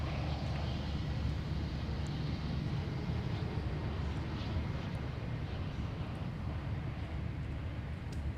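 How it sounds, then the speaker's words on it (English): A United Airbus A320 with IAE V2500 engines at Minneapolis–Saint Paul airport gives a steady, continuous low jet roar and rumble that holds even and unbroken throughout, with no voices. "Interesting sounds from the IAE V2500 engines."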